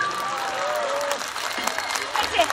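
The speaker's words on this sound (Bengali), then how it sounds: "মেয়েদের হাততালি জোরটা দেখি" Girls in an audience at a Kali Puja stage show clap together, a dense wash of applause mixed with crowd voices and a presenter's speech over the top, steady throughout.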